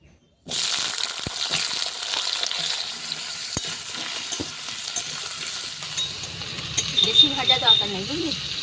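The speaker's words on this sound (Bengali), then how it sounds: "ফোড়নটা ভাজা হয়ে গেছে এবার আলুগুলো ভেজে নেব" Potatoes fry in hot mustard oil in a wok that already holds panch phoron and dried red chilies. A loud, steady sizzle runs throughout, growing busier with stirring toward the end.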